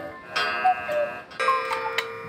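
Cuckoo clocks in Triberg in the Black Forest, ringing and chiming tones in two bursts with light ticking, close and clear.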